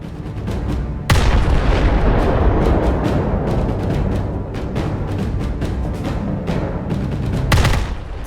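Battleship main guns fire in Roblox Naval 1945, likely HMS Warspite, with one heavy, loud boom near the start, a sustained rumbling roar of battle after it, and a second big blast near the end.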